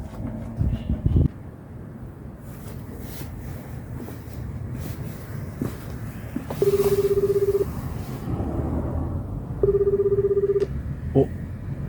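Telephone ringing for an incoming call, two short electronic ring bursts spaced a few seconds apart, heard over faint wind and low background rumble.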